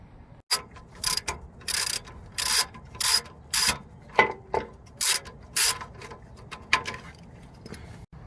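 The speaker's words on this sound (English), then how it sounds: "So now that we've unbolted the fog lamp" Ratchet wrench loosening the fog lamp bolts on a Colorado ZR2 Bison during a front LED fog light bracket install, giving about a dozen close, loud bursts of clicking in an uneven rhythm, with no talking.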